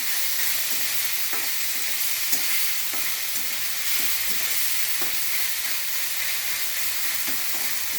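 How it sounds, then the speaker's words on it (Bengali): Elephant foot yam stalks stirred and mixed in a pan, with a steady close sizzle under regularly repeated scraping strokes of the spoon. "এবার এই ডাটাগুলো মেরে চেড়ে একটু মেশাতে হবে ফুটিয়ে দিতে হবে"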